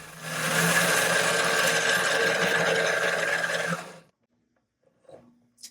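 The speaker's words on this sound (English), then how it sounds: "So that's the final cut on the lathe, and we're almost done." A lathe making its final cut on a bass guitar bridge part, a loud steady whirring grind close by for about four seconds that stops abruptly, followed by faint clicks.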